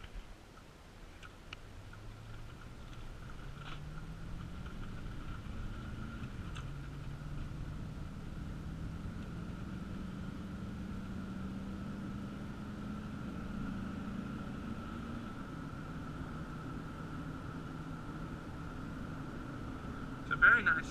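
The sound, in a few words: 2006 Chevy Silverado 4.8 liter V8 accelerating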